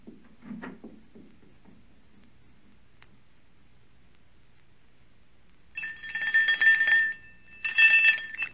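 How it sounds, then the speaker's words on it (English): Two bursts of electronic chiming ring out after a quiet stretch, each lasting about a second, bright and close. "Ring the doorbell. I'll hear it. Ring it loud."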